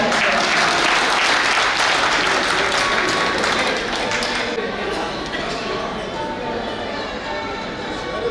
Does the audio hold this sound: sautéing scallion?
no